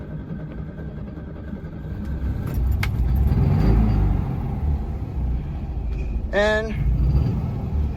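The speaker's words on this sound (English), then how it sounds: "if you have a carburetor car, just do this when it's hot outside and the car is already heated up." A hot carburetor car engine cranks at three-quarter throttle and rumbles into running, a rising low drone with metallic rattles and a short whirring burst near the end, and a voice speaks briefly at the end.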